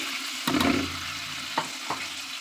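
Onion paste fries in hot oil with whole spices for chicken roast, a steady sizzle with a few scraping stirs of a spoon in the pan, close and without talk.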